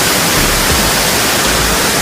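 Loud, steady roar of water rushing at Diyaluma Waterfall in Sri Lanka, a dense broadband wash with a heavy low rumble, close and continuous without pause.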